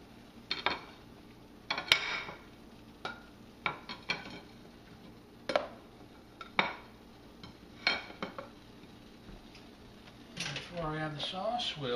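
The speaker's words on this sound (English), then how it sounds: "I'm going to plate the dish." Pasta being plated with brown butter sage sauce: scattered clinks and scrapes of utensils against a dish, several sharp knocks and a few softer rustles, close by, with a voice talking over part of it.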